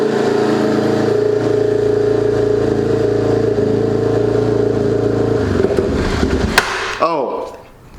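2004 Yamaha TT-R 250 off-road motorcycle engine idling loud and close with the fuel cut off, then sputtering and dying out near the end, with a voice speaking over it.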